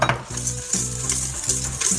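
A spoon stirring a sugar mixture in a bowl, a few scraping and clinking strokes in quick succession, close and fairly steady over a faint hum.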